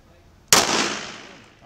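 A single sharp pistol shot at a shooting range, loud and close, with a sudden crack followed by a decaying echo, heard alone with no talking.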